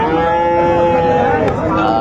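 Sahiwal bull calves at the Ambari cattle market in Gazipur give a loud, sustained moo that runs through the whole two seconds, with a harmonic, drawn-out tone and a busy crowd murmur beneath.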